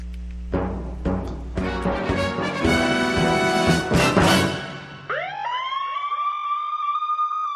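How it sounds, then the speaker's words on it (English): A loud emergency vehicle siren wails continuously, its pitch sweeping up and down before shifting into a steady rising yelp pattern, close and prominent with no talking. "When a fire engine, ambulance, or other emergency vehicle approaches you with flashing lights and sirens"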